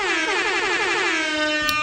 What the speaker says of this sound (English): A huge air horn for you guys.